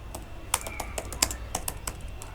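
Fingers type on a computer keyboard while someone enters placeholder text into an HTML form field, giving quick, uneven clicks and taps with a few louder keystrokes, close up and fairly quiet.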